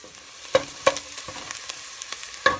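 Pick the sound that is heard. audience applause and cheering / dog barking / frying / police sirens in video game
frying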